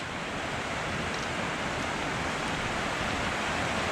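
A waterfall in the Tatra mountains, in the Valley of the Five Polish Ponds, gives off a constant, loud, broadband rush of falling water that holds steady throughout with no voices.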